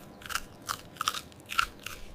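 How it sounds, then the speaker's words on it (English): An orange carrot is bitten and chewed in a series of about five crisp, close crunches, evenly spaced with quiet gaps between them and no talking. "Bunnies love crunchy carrots."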